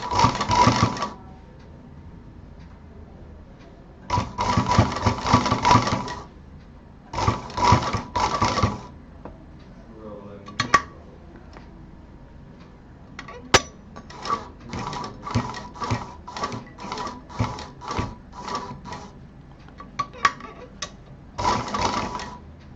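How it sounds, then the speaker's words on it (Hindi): A sewing machine stitching layers of a hot pot pad, fast rattling bursts of needle strokes separated by pauses, close and clear with no talking. "मशीन इसके अंदर चलनी चाहिए। मशीन ऊपर की परतों पे नहीं आनी चाहिए।"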